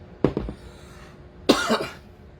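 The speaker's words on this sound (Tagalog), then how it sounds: "Meron po kasi akong ubo." A man coughs twice, a rough close cough followed a second later by a harsher, longer one.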